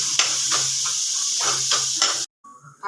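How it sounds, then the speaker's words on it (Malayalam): Chicken sautés in a pan over a low flame, a close, steady sizzling hiss with soft pulses of stirring, cutting off abruptly before faint clatter at the end. "സിമ്മയിലിട്ട് വഴറ്റി കൊടുക്കണം, അല്ലെങ്കിൽ കരിഞ്ഞു"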